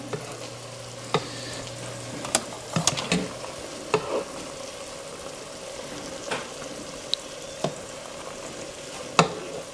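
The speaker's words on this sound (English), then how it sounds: "My meat and onions cooking, looking good over there" Meat and onions fry with a soft, steady sizzle in a pan, punctuated by occasional sharp scrapes and taps of a utensil stirring; no voices.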